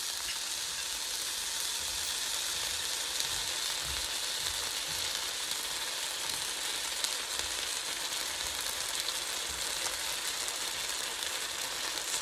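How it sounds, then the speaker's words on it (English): Italian sausage, a pound of it, browning in a pan with a steady, close, continuous sizzle and frying crackle that holds evenly throughout, with no voices. "we're going to brown a pound of Italian sausage"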